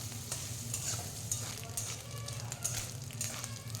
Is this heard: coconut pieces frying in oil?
yes